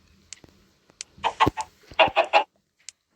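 A Minecraft chicken clucks in a cluster of quick, close, loud bursts after a few faint clicks, with a single short sound trailing at the end.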